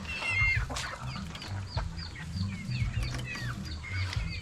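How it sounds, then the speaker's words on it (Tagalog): Chickens on a small Philippine farm, including fighting cocks, cluck and chirp steadily up close, with overlapping calls from several birds and no voices. "nag-aalaga din ako ng manok na panabong"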